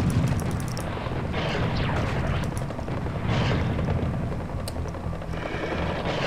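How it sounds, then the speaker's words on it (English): Rocket launcher blasts and combat noise in Serious Sam HD, a dense, continuous roar of booming explosions and gunfire with no clear gaps, loud throughout. "I'll use the rockets to blow them away at far range"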